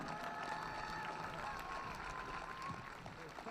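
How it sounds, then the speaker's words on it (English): Crowd of protesters at a march to city hall steps clapping and applauding outdoors, a steady wash of hand claps at moderate distance sustained throughout. "So you guys can give them a round of applause."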